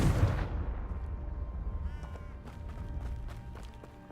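A Confringo fire spell cast in Hogwarts Legacy, a loud fiery burst at the start that quickly decays into a faint crackling tail with scattered small pops.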